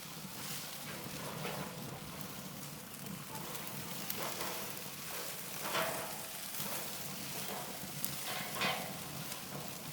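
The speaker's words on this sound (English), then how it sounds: "dump our wings on direct heat" Chicken wings sizzling on direct grill heat, a steady soft crackle and hiss with scattered pops, fairly quiet, with faint talk underneath.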